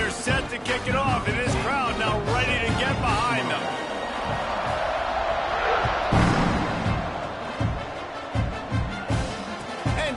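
College football stadium crowd roaring before kickoff, loud sustained cheering and noise that swells midway, with a commentator talking over it.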